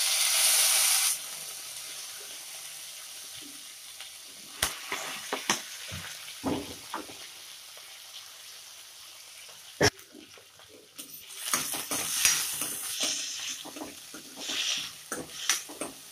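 Tomato, onion, garlic and green chili sautéing in a pan with mustard seeds and cumin, a loud sizzle at first that settles to a low frying hiss, broken by scattered clinks and scrapes of stirring and a denser burst of sizzling later on.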